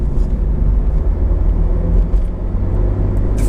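A Honda CR-Z 1.5 hybrid IMA Sport hatchback is driven through corners, giving a steady, loud, low engine and road rumble heard from inside the car, unbroken throughout.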